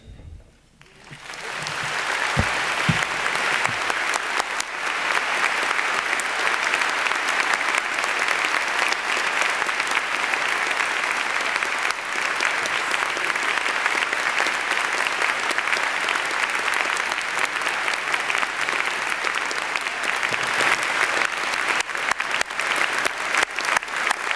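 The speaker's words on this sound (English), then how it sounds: "the students said it better than I could with their applause" Sustained, dense applause from a commencement audience fills the whole stretch, loud and steady after a quick swell at the start, with no talking over it.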